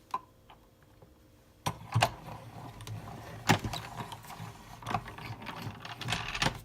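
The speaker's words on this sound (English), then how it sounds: "we can run it through the die cut machine" A die cut machine cranks a plate through in a steady run of close mechanical clicks and grinding gear noise, starting after a quiet moment and continuing with ratchet-like ticks to the end.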